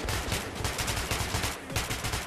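Loud gunfire from a firearm in the video game Metro 2033 Redux, heard as a string of rapid, close bursts with a brief gap before the shots resume, and no talking.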